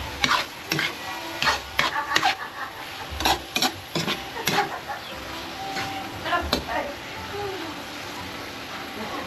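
Vegetables with chili sizzle in hot oil, a steady frying hiss with irregular sharp spatters and stirring clatter, close by, while faint voices murmur in the background.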